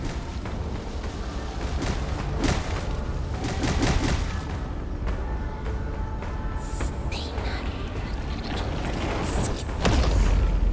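Exploding trees in the video game Bramble: The Mountain King, heavy booming bursts and crackling blasts over a dense rumbling game soundscape, continuous and loud.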